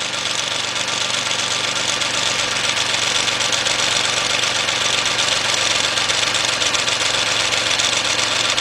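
A rebuilt Chevy Equinox engine idles with a steady, even rumble and a faint mechanical ticking that hold unchanged throughout, heard fairly close and with no talk over it.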